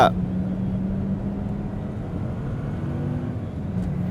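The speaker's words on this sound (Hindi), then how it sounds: "कुमार, गाड़ी धीरे चला।" A car drives along at a steady pace, its engine and road noise a constant low rumble from inside the cabin, with people talking over it.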